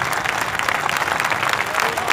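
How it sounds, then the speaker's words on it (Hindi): Courtroom-compound audience in Varanasi gives Bahal a standing ovation, with dense, continuous clapping that stays loud and even throughout, a faint crowd murmur underneath. "जोरदार तालियों से, और खड़े होकर सम्मान करें बहल साहब का"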